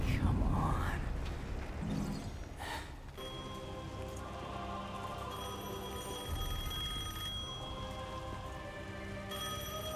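A telephone ringing as steady bright tones over a loud wash of falling rain, with faint voices underneath; the rain is strongest at first, then the ring holds on through the rest.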